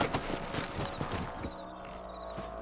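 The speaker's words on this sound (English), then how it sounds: "Let's get back on the horses and see what else is going on." Horse hooves clip-clopping in the Red Dead Redemption video game, a steady run of rapid hoofbeats close up over a dense, loud game soundtrack.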